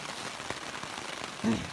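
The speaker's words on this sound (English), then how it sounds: "And it is pouring rain." Heavy rain pours onto a tarp over a backcountry elk-hunting camp, a faint, steady patter and hiss with one brief dull thump near the end.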